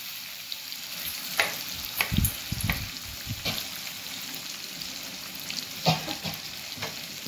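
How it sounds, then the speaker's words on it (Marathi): Fish sizzles in hot oil in a home kitchen pan, a continuous bright crackle with sharper spits and pops, and a few clanks and scrapes as the pieces are turned. "इथं आपले फिश फ्राय होतात आहे"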